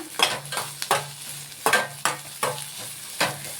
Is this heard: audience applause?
no